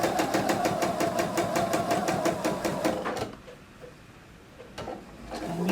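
A sewing machine stitching fabric from one corner to the other, a loud, close, rapid mechanical chatter of evenly spaced needle strokes that stops abruptly about halfway, leaving only faint handling sounds.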